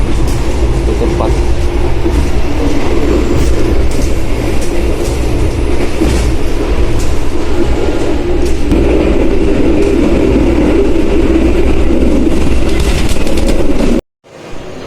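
The Mutiara Timur night passenger train on the Surabaya–Banyuwangi route rumbles steadily from inside an executive-class carriage, with clattering wheels and a constant loud roar that cuts off abruptly near the end.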